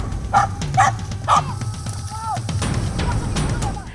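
A dog confronting a monitor lizard gives three sharp, close barks in quick succession, followed by a brief whine and lower rustling and scuffling noise in the outdoor surroundings.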